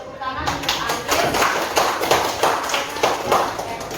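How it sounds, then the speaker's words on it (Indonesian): Applause from a classroom of students for a classmate, a burst of rapid overlapping claps with light taps and thumps, loud and close, mixed with children's voices. "Tepuk tangan untuk Anggis."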